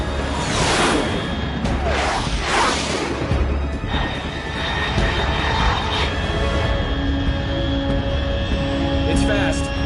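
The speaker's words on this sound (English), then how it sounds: "Unidentified aircraft detected." An unidentified high-altitude aircraft, estimated faster than Mach 3, flies overhead in Metal Gear Solid Snake Eater, with two loud rushing whooshes early on, then a lingering roar under voices talking.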